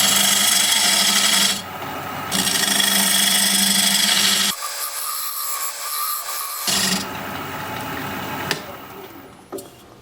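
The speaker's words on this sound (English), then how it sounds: "Now I'm just going to use this diamond point tool to square up the sides of the tenon." Diamond point tool cutting the sides of a black walnut tenon on a wood lathe, a steady close scraping and rasping hum with a few pauses and shifts as the cut changes, ending in lighter intermittent contact.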